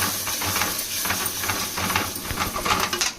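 Tomato puree frying in a pot for a clay-pot fish biryani, a dense bubbling hiss with irregular spitting pops, steady and close, no voices.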